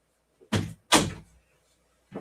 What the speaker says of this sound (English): I'm just going to close my door here.